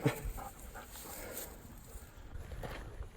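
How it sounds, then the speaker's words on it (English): A dog pants close by in a large concrete hallway of urban ruins near a river, with quick, rhythmic breaths and a faint whimper under light background noise. "Hey, look, a dog found us again."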